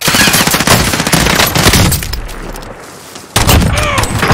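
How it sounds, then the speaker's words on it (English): Rapid machine-gun bursts and heavy gunshots crackle loud and close in Call of Duty Warzone, with a brief lull before another sharp volley erupts. "Taking fire!"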